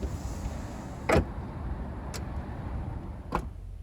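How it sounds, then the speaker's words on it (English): Power tailgate on a 2020 BMW X5 M50i closing by itself: a firm thud with a latch click, followed by two fainter clicks over quiet cabin background, with no talking. "I will close the both two trunk in the back automatically"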